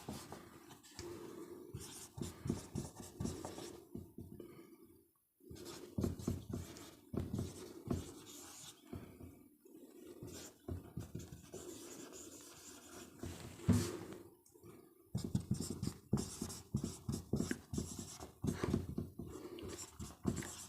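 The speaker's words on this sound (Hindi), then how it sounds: "यहाँ पर हम लिखेंगे" A pen scratches across paper while chemistry notes are written by hand, with irregular scribbling strokes and short pauses at close range over a quiet room.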